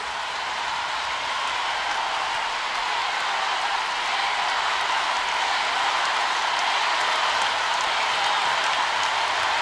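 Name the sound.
audience applause at Viña del Mar festival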